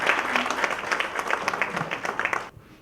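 Audience applause after a speech at a media summit, a dense, steady burst of many hands clapping close up, cutting off abruptly near the end.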